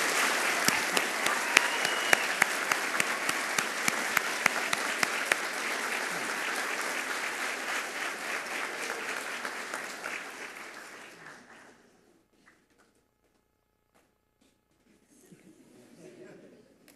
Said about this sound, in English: Let's give these students a well-deserved round of applause.